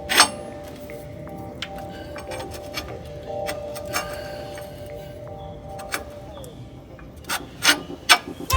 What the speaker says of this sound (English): So I'm just installing the U-bolts in.